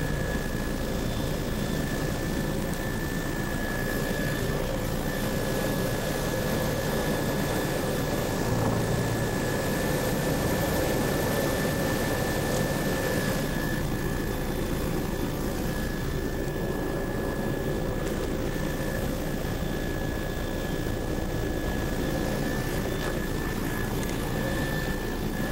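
A survey aircraft circles at about 700 feet and 90 knots over a resort area near West Bay, its engine droning loud and steady from inside the cabin throughout.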